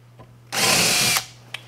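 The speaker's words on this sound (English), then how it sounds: "I've pre-drilled those with a countersink, and now I need to just make that hole a little bit bigger for the number 10s" A power drill enlarges a pre-drilled countersunk hole for number 10 screws in a boat's crash bulkhead, making one short, loud, close whirring burst of under a second.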